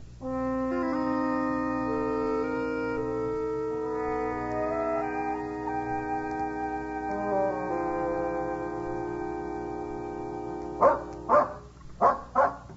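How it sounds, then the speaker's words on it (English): In an old-time radio drama of The Saint, sustained organ-like music tones hold for several seconds, then a dog gives four loud, evenly spaced barks close by at the end. "That dog is definitely leading us somewhere."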